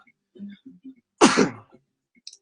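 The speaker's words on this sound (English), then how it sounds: "When you sneeze, it means you're alive." One sharp, loud human sneeze close to the listener, preceded by a few brief breathy intakes and followed by quiet.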